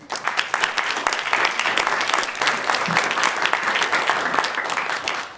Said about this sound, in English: So we gotta clap for that.